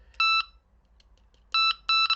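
A Delkim Ev-D carp fishing bite alarm gives three loud, clear electronic beeps: one at the start, then a pause, then two more in quick succession near the end, with no talk over them.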